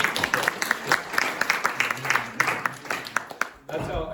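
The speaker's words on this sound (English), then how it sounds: "you guys deserve applause" A meeting audience applauds former island EMS volunteers, a scattered burst of clapping of moderate loudness that tapers off, with a voice starting up at the end.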